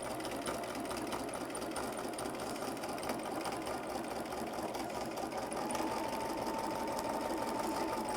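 A sewing machine quilting with a walking foot runs steadily throughout, a fast, even mechanical whir and needle patter, close and constant with no pauses.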